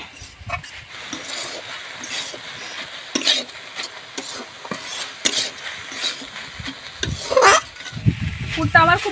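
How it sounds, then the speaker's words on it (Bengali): Chicken momo filling fries in a pan with soy sauce, irregular scraping and stirring clatter over a light sizzle, with louder spoon-on-pan knocks near the end. "পুরটা আমার খুব ভালো করে ভাজা হয়ে গেছে"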